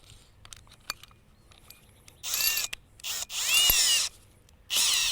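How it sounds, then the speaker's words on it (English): A power drill fitted with a hole saw cuts into a plastic rain barrel in several loud whining bursts, separated by short pauses with small clicks and knocks. "You want to use the hole saw and the drill for this."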